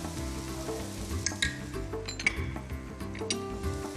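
Cumin powder, turmeric and mustard paste sizzle softly in a pan, a low steady fry broken by a few light clinks of a utensil against the metal.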